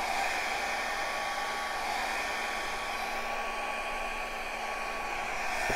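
A hair dryer blows steadily at close range onto a painted canvas, a constant whooshing hiss with a faint whine, running alone without pause.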